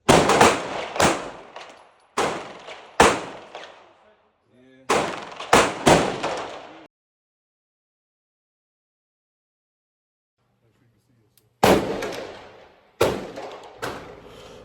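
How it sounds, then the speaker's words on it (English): Gunfire at a shooting range during a family training day: sharp, loud close reports with quick echoing decay, fired in two bursts of several shots separated by a long silence, then resuming. "He looks down the barrel for his target before he squeezes the trigger"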